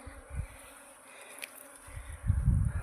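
A honeybee swarm leaving two hive boxes, one after the other, gives a low droning buzz that swells briefly early on, dips, then rises loudly toward the end, with no voices.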